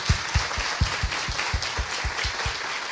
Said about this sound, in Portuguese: Vamos dar uma linda salva de palmas à família